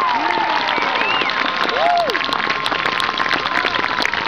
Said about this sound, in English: I would like you all to give these lads and boys and girls of the Trebuchet a tremendous cheer